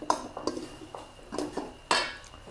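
Glass noodle larb with pork is tossed and mixed in a bowl, giving a few close, sharp utensil clinks and scrapes at irregular intervals over quiet background.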